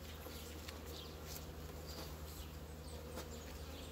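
Honey bees buzz steadily at beehive colonies that seem unusually strong for the season, a dense continuous hum of many insects close by with no voices.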